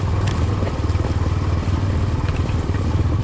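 A motorcycle engine chugs in first gear on a slippery, leaf-covered downhill trail, with a low, steady, pulsing thrum close by and no one speaking.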